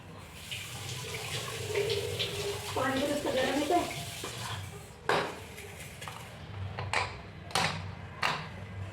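Water runs and splashes in a kitchen sink with clinking dishes and a few sharp knocks, while a voice talks faintly in the background.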